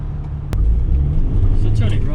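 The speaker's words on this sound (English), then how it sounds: "so just wait for these cars to go past" Cars roll past a road junction, heard from inside a waiting Ford Transit Custom van as a low rumble that swells after a sharp knock, with a voice talking over it.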